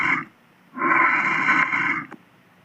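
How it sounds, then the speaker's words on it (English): A lion gives a deep, loud roar lasting over a second, preceded by a shorter growl-like burst, heard alone without talk. "Do you know how the lion roars?"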